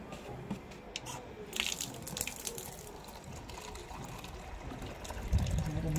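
Water poured from a watering pan onto pineapple, ginger, lettuce, lemongrass and onion plants, a moderate splashing trickle running steadily throughout with some rustling and a few louder splashes near the end.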